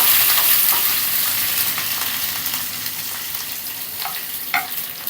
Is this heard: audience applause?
no